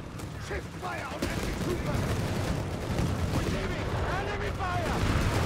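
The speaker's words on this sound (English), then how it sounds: "Mine's going off." A land mine goes off in Company of Heroes 3 amid a dense wartime battle, with gunfire and explosions rumbling continuously throughout and talk running over it.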